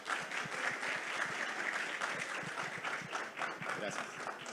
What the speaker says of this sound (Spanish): pero fuerte aplauso.